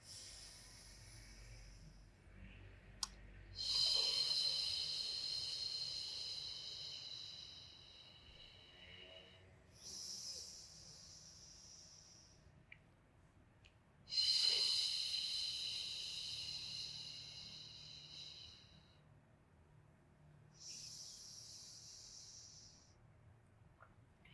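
Slow, deep breaths in and out through the mouth during a beginner Pilates breathing exercise, four long airy exhalations with quiet pauses between, close and fairly soft.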